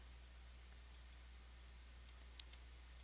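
A computer mouse gives a few faint, sharp clicks, small isolated ticks over a low steady hum in a quiet room.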